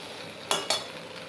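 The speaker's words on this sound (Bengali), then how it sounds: "এইবারে সিমটা দিয়ে একটু এই মশলার সাথে ভাজা ভাজা করব, মানে কষাবো" Flat beans stir-fried with spices in a pan: two short, close bursts of sizzling and scraping a moment apart over a quiet kitchen background.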